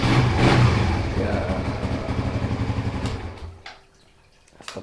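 A Suzuki GSX R150 motorcycle engine runs at a steady close idle, then shuts off and leaves near silence with a few small clicks.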